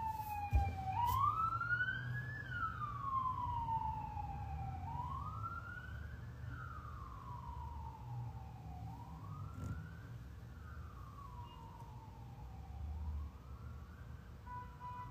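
Ambulance siren passing along a street, a wailing tone rising and falling in slow, repeating sweeps over a low rumble of traffic, fairly clear and steady throughout.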